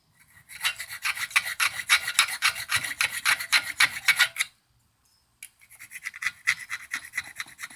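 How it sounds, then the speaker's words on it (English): An old hand file is drawn across a metal table saw fence in fast, even rasping strokes, loud and close, with a short pause before the rhythmic filing resumes. "let's see what the file does. Maybe the old file will show us."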